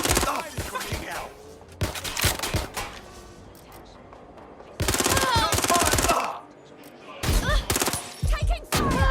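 Loud bursts of rapid automatic gunfire in the video game Watch Dogs Legion, in irregular volleys with short gaps and lower background game noise between them.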